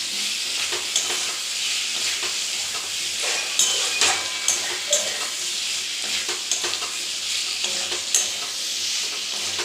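Potato and pointed gourd curry frying in a pan gives a steady broadband sizzle and hiss throughout, broken by several louder stirring scrapes near the middle and end, with no voices.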